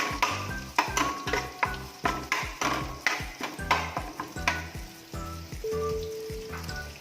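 Bay leaves, cardamom, cloves and cinnamon frying in melted butter for chicken mandi, with a steady close sizzle and repeated scraping stir strokes in a regular rhythm, no talking.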